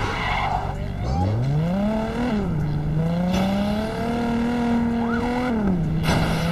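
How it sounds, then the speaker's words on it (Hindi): Cars in the Gangster Vegas video game skid and squeal through a police chase, a loud engine tone sweeping up and down with sustained tire screech over about six seconds. "पीछे पुलिस आ रही है"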